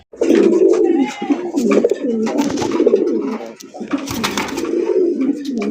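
Native village pigeons coo continuously at close range, with layered throaty calls and a brighter burst near the end and no voices.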